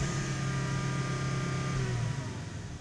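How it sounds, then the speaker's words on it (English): Volvo engine held at high revs while parked with the accelerator pressed fully, a steady sustained drone with a faint whine that holds level and then dips slightly near the end; no talking. "I'm going to press the accelerator to the maximum"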